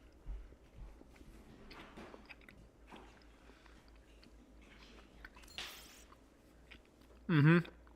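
Someone chews chewy food close to the microphone, soft squishy bites and mouth sounds spread across several seconds, with a brief voice sound near the end.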